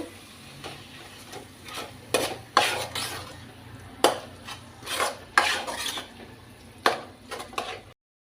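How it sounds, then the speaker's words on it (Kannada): A spoon stirs ground peanut and coconut into a stuffed brinjal curry in a pan, giving repeated scraping strokes and clinks over a soft sizzle, close by and with no speech. "ಇದನ್ನು ಹಾಗೆ ಚೆನ್ನಾಗಿ ಮಿಕ್ಸ್ ಮಾಡ್ಕೊಳ್ಬೇಕು"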